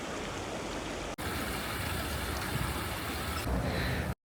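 River water flows steadily in Seoul's Cheonggyecheon area, a continuous broadband rushing that is close and fairly loud, with a brief break partway through.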